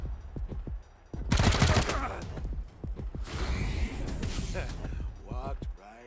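Ambush shot gunfire from the video game Wasteland 3, a sharp burst of rapid shots followed by another volley, mixed with whooshes and a voice talking over the action.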